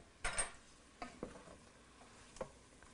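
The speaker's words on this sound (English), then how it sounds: "We'll get these sauteed up. So these are sauteing." Garlic with thyme and rosemary sautéing in an Instant Pot, heard as a few soft stirring scrapes and brief sizzling bursts over a quiet background, with no one talking.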